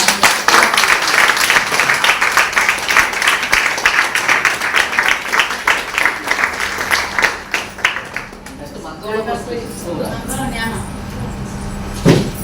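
An audience claps in a dense, rapid patter of applause that stays loud for several seconds, then thins and fades, leaving a murmur of voices and room noise.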